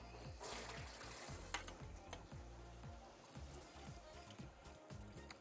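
Rice stirred into simmering tomato sauce in a cooking pot, a soft steady sizzle with a rhythmic scraping and stirring, quiet and close.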